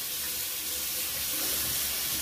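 Tap water runs steadily into a sink over a washcloth, a close, continuous rushing splash with no voices.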